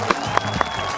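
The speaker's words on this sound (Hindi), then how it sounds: "आपने तालियों से स्वागत किया" A crowd at a political rally in Goa applauds in a steady patter, with a few louder claps standing out over a faint background murmur.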